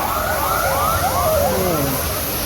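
A loud ambulance siren wails in rising and falling sweeps, overlapping as it passes close by a service station against steady traffic noise.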